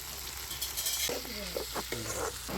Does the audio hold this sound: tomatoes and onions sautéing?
yes